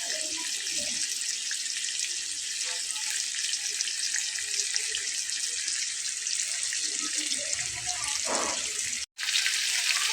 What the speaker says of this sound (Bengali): আমার মাছটা কিন্তু ভাজা হচ্ছে